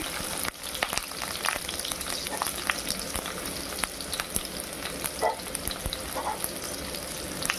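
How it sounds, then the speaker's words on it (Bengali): Chopped onion and garlic fry in mustard oil in a kadai, giving a dense crackling sizzle punctuated by frequent sharp pops and spoon scrapes as they are stirred, close and unvoiced. "এবারে একটু নেড়ে চেড়ে এটা আমি ভেজে নেব।"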